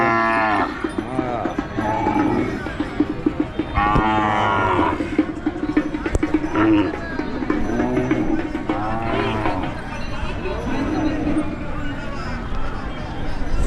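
Many cattle moo again and again at a large bull market in Pandharpur. The lowing is loud and comes from both near and far animals, layered over crowd murmur and someone talking.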